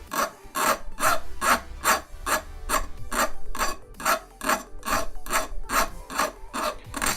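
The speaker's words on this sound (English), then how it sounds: "It's just a very slight filing, but it's just enough to take that very sharp burr off." Hand file rasping a sharp burr off a part for a RepRap 3D printer kit, in steady rhythmic strokes, about two per second, close and loud with no talking.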